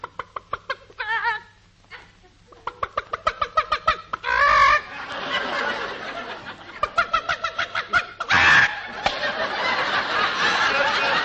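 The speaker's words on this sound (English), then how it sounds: "Oh, Fred, look at that hen sitting on the nest" A hen clucks on her nest in an old-time radio comedy sound effect, with rapid repeated clucks and squawks in bursts, a couple of loud cackles, and a low steady hum underneath.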